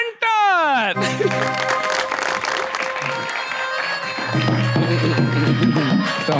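A live TV studio audience applauds steadily to welcome a guest on stage, dense clapping and some cheering running throughout after a short musical flourish at the start.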